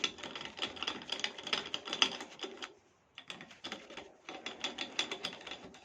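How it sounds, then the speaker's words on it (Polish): A ratchet wrench loosens bolts on the engine cover of a 139QMB/GY6 scooter engine, giving close, quiet bursts of rapid clicking with a pause midway before the clicking resumes. "odkręcamy płaszcz na śrubę"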